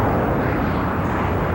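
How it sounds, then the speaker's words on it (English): SR-71 Blackbird jet airplane in flight, a steady, loud, broadband roar with no breaks, filling the whole moment without any voices. "take a close look at the world's fastest airplane"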